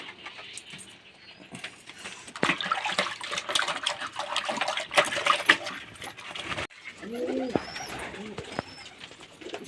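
Pigeons coo softly in their coop during a hot day while drinking water is set out for them, with splashing, clinking and shuffling throughout and a few clear, close coos near the end.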